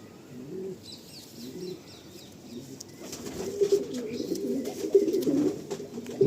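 Madrasi pigeon squabs in a loft give soft, low cooing murmurs that swell and grow louder toward the end, with a few faint high chirps near the start.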